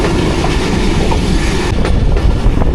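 The 40 Down Jaffar Express runs through Hasandar railway station without stopping, a loud close rumble of wheels with rhythmic clickety-clack over the rails filling the whole stretch.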